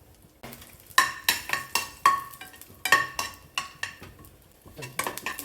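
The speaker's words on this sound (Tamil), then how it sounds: "இந்த குழம்பு வடகத்தை இதில் போட்டு பொரிக்கணும்." Sun-dried vadagam crackles and sizzles frying in oil in a pan, punctuated by repeated metallic clinks and scrapes of a spoon stirring, with occasional sharp spattering pops.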